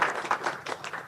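A brief patter of audience clapping after a dance presentation, faint and scattered, lasting about a second with a handful of distinct claps.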